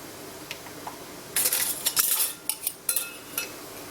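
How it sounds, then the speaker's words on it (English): Metal lids are set onto glass canning jars for strawberry jam, giving a quick run of bright metallic clinks and rattles close by, irregular and spaced across a few seconds. "Lids go on."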